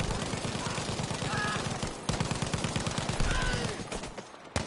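Sustained Lewis gun machine-gun fire in a World War I shooter game rattles in dense, fast repeating bursts, close and heavy, with a brief break midway and no talk.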